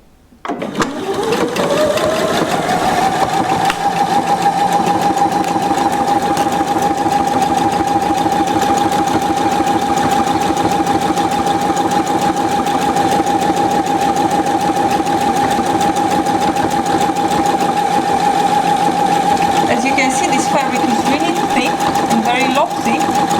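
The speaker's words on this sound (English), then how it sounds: "I have the buttonhole number 1 with all the standard settings of the machine. And I'm just pressing play" A Pfaff 720 sewing machine stitches a buttonhole on standard settings, its steady, loud mechanical whir and rapid stitching rhythm running continuously and close up for the whole stretch after a brief start.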